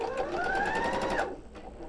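A sewing machine runs fast stitching through pinned fabric, a loud close whirring burst that rises and then stops abruptly, followed by a quieter hum.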